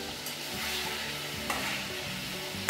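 Chicken marinated with lemon, salt and black pepper frying in oil for a chicken malai curry, a steady close sizzle with soft stirring scrapes and a brief louder crackle near the end.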